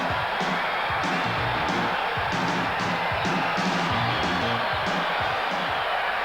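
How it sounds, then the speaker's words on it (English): A stadium crowd at a 1987 Australian football match between Melbourne and the Swans in Vancouver roars in a steady, dense wash of noise, with scattered louder swells and whoops. "The stadium with the crowd, it is really amazing. The roar is sensational."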